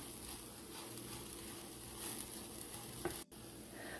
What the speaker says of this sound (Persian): سیر رو خیلی خیلی ریز خورد میکنیم و به ماهیتابمون اضافه میکنیم و 1 دقیقه دیگه هم سیر رو تفت میده